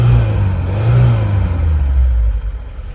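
Lada Niva engine revving hard just after a start, a loud close rumbling roar that holds steady and then eases slightly toward the end, with no talking.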